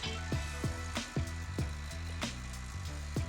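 A Roto-Q 360 hand-cranked rotisserie turns slowly on a pellet grill and gives a faint, evenly spaced series of clicking ticks over a low mechanical hum.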